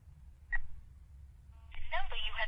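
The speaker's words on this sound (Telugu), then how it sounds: "వాడు కాల్ చేసిన నంబర్కి మళ్ళీ కాల్ చేయి." Mobile phone keypad tones beep as a number is dialed in a comedy film scene, one short tone followed by a quick run of beeps, with people talking around them.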